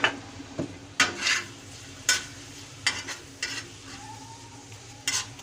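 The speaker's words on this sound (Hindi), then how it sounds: "इसको अच्छी तरह मिक्स कर देंगे मसाला डाल के।" Tomato onion masala sizzles on a tawa with brinjal as it is mixed, with repeated sharp clanks and scrapes of a utensil against the metal over a quiet background sizzle.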